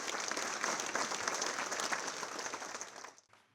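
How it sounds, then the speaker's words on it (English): Sustained audience applause for honorees at a legacy ball, full and dense clapping that fades out abruptly near the end. "Please give them all a round of applause"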